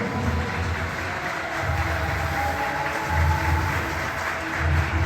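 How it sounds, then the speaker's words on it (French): A crowd at a padel tournament applauds a player in a continuous wash of clapping, with a pulsing low-pitched thump underneath. "Il peut faire un peu d'applaudissements."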